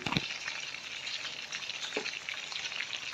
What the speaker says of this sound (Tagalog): Kumukulo na ang aking piniritong tinolang isda